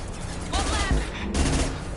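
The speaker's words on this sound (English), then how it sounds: "Firing a high-impact shot!" Gunfire in the video game Mass Effect 2: a pair of sharp, punchy shots with a crackling burst between them, loud and close against a low ambient game backdrop, with no talking.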